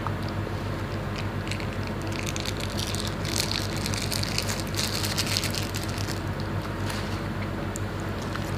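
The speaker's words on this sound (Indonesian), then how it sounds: "Sambalnya kita tuang." Spicy sambal chili sauce for grilled chicken poured out in a loud, steady, wet gushing stream that runs unbroken and close, with no talking.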